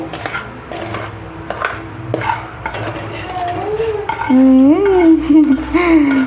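Fried cake mixture is scraped from a pan into a bowl with a series of close clinks and scrapes of a utensil on metal, while a small child babbles in a sing-song voice toward the end.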